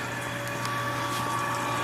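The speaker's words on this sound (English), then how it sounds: "Got my pump going." A liquid pump runs during a homebrew pale ale boil, giving a constant, quiet mechanical hum with a faint watery hiss and no talking.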